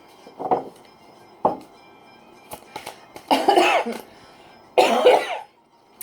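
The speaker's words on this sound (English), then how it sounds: "I was coughing up a lung." A few short throat sounds lead into two heavy, rasping coughing bursts near the end, close by, with faint clinks in between.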